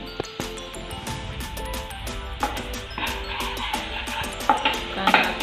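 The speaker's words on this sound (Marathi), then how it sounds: "अजून थोडा वेळ अजून थोडासा ब्राऊनी होईपर्यंत परतून घ्यायचं" Masala for a paneer curry sautés in a pan until browned, with steady sizzling and a string of sharp metallic clinks and scrapes from a spoon, growing busier toward the end.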